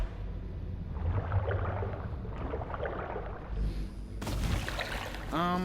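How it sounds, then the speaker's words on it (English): In the stealth video game Dishonored, a character hops into water, producing a muffled underwater whoosh and churning swirl, then a sharp splash-like burst near the end, with a brief vocal tone close by. "We're just going to hop in the water."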